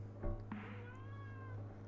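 A cat meows softly once with a drawn-out, rising and falling cry over a low steady background hum, faint and close, with no talk.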